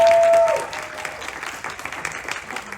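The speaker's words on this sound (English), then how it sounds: "can we give him a massive round of applause?" Audience applause fills the room at a film screening in a London cinema, starting loud and then settling into steady, dense clapping from the crowd for the rest of the moment.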